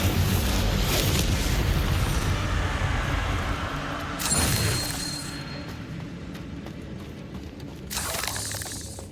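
Incendio fire spells go off in Hogwarts Legacy amid constant noisy combat, with distinct bursting flares near the middle and again toward the end, loud and close, with no speech.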